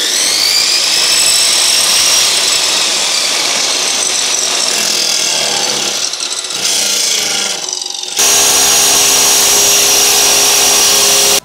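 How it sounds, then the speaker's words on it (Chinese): A power sander with a sandpaper disc grinds across rough salvaged wood from a collapsed house, a loud steady high-pitched whine with brief dips midway before resuming at full strength, close and alone. "我用砂纸片来给它磨一下的"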